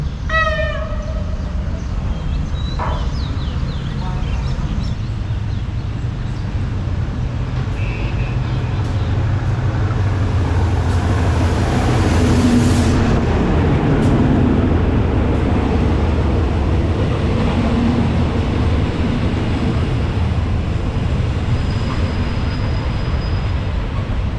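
A train arriving at a station on the way to Ayutthaya rumbles steadily, loud and close, with a low rolling drone and some higher screeching. Faint voices sit underneath.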